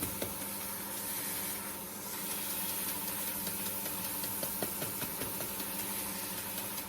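Wood lathe spinning a workpiece at about 750 RPM while a sanding pad is applied, giving a steady motor hum with a continuous rubbing hiss and faint scratchy ticks, close and even throughout.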